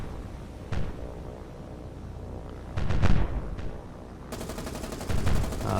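Ship machine gun fire in the War on the Sea naval game, with a rapid rattling burst near the end following scattered heavier shots and blasts, all loud and close.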